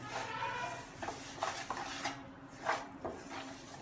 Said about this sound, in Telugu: పంచదార వేసేసుకొని తిప్పండి